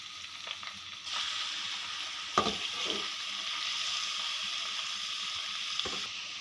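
Boneless chicken frying in about one and a half tablespoons of oil, giving a steady close sizzle that swells after the first second and carries on with a few soft stirring knocks, no voices.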